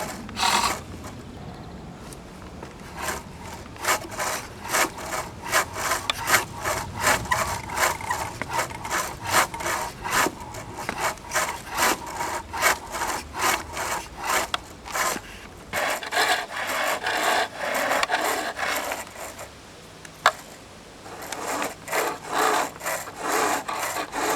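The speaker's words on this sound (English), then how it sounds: "Now use the spindle gouge and the skew to just go as thin as you can at this point until you can feel it flexing about." A wooden spinning top being cut on a lathe with a spindle gouge and skew, giving a steady run of loud, rhythmic scraping and rasping strokes that continue for the whole stretch with no talk.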